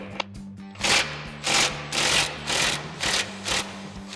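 Impact wrench loosening a bolt on the front bumper of a 2021-2023 Ford F-150, firing in about six rapid hammering bursts roughly half a second apart, loud and close, with no talking.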